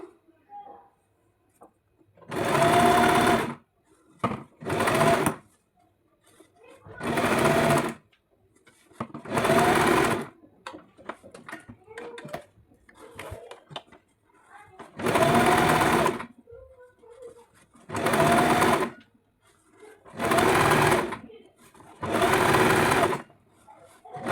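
Sewing machine stitching a folded blouse sleeve edge, running in about eight short bursts of steady whirring separated by quiet pauses with faint handling noises.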